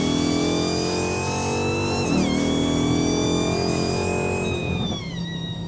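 A 1,000 hp Dodge Charger Hellcat fitted with the Ghoul package accelerates hard. Its engine note climbs, drops at each quick gear shift and climbs again, loud and close from start to finish.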